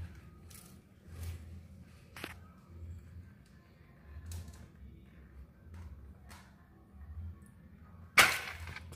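A single sharp crack of a shot fired at a catfish during night fishing in calm water, loud and close, standing out near the end above quiet water and insect background with a few faint ticks earlier.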